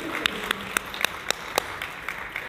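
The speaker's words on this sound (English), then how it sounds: "A big round of applause to Mr. Teacher." Sparse, scattered claps from a small audience at a question-and-answer talk on self-governance, several sharp individual hand claps standing out over a soft background patter, moderately close, ending abruptly.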